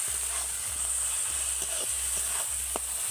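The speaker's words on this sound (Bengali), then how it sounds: "এবার আমি মশলাগুলোকে ভালো করে কষিয়ে নেব" Spices being fried down in oil for a Bengali egg curry give a steady, close hiss and sizzle that runs without a break. A faint low hum sits underneath, and small stirring scrapes come through now and then.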